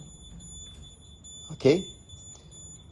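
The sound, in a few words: RD9100 radiation detector beeping near static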